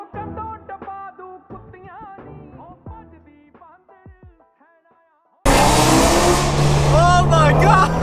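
A Shelby GT350 engine bursts into a loud, close roaring rev after several seconds of music and voices, holding a dense, raspy blast to the end while people shout over it.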